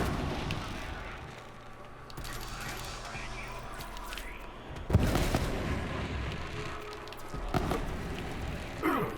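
Bearcat gun in Borderlands 3 firing in bursts, sharp popping shots and blasts rising above a busy layer of game effects, with a couple of louder impacts near the middle and end.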